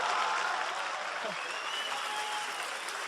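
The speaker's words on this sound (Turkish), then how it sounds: "Bu alkışlar sana" A crowd at a League of Legends cosplay contest applauds a costumed contestant, a dense, steady wash of many hands clapping together throughout, moderately distant, with a voice briefly heard through it.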